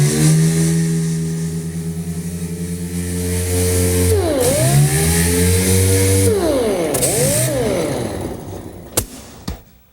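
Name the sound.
dual orbital sander sanding car body repair area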